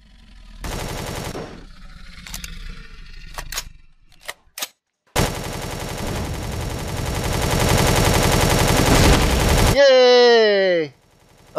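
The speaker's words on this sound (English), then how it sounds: "I think I just shoot the core out." Rapid automatic gunfire in Empyrion shoots out a core: long sustained bursts of fast, evenly spaced shots, loud and close, broken by a short pause and ending with a wavering electronic warble.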